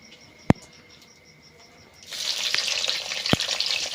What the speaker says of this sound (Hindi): नहीं मिर्चा तल हूँ पहले।